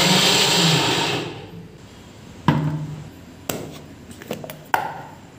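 A kitchen mixer blender whirs loudly while blending chilled milk with Boost, then spins down and stops. A few sharp taps and clinks follow in the quiet.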